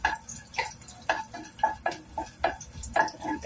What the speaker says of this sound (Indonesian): Bawangnya digongso sampai harum.